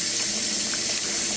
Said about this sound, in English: You just stand there and let the water run over your back.